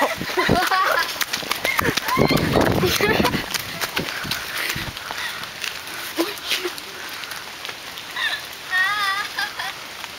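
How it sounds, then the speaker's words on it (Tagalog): Light rain patters in the forest of La Mesa Eco Park, a soft, continuous hiss with scattered drops, mostly under people chatting nearby. "Umuulan-ulan pa po."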